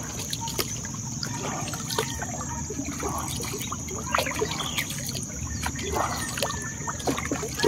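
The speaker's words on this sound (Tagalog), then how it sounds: "habang tayo namamangka, mag-shoutout tayo" A small boat moves through shallow water, with steady trickling and sloshing close by and occasional paddle splashes over a constant background hum, no talk.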